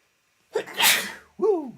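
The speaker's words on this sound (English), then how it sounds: "I'm going to sneeze." A single hard human sneeze bursts out loud and close, with a short voiced exclamation right after it.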